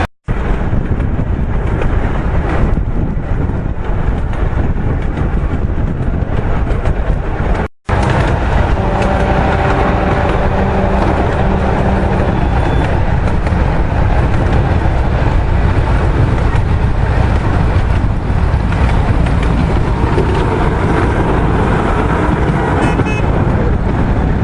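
Steady rumble and rattle of a train ride, with continuous wind buffeting across the microphone and faint tonal whine from the rails, loud and constant from start to end apart from a brief dropout.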